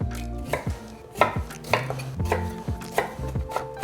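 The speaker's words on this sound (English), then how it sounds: "We want to chop this up into nice little pieces, like this." A knife chopping ginger and garlic on a board, with quick uneven strokes that knock sharply and ring a little against the surface, close and fairly loud, with no voices.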